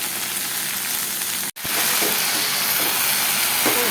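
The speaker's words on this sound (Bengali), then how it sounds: "কলমি শাক ভাজা, এদিকে ডাল হচ্ছে" Kalmi greens (water spinach) sizzle loudly while frying in a pan, a steady dense hiss broken by one brief silent gap before the frying noise resumes.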